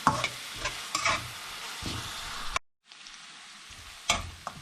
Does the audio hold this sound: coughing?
no